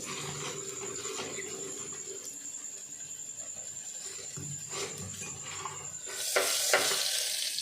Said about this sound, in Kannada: ಸ್ವಲ್ಪ ಎಣ್ಣೆ ಕಾದ್ಮೇಲೆ ಅದಕ್ಕೆ ಶುಂಠಿ ಬೆಳ್ಳುಳ್ಳಿ ಪೇಸ್ಟ್ ಸ್ವಲ್ಪ ಫ್ರೈ ಮಾಡ್ಕೊಳ್ಳಿ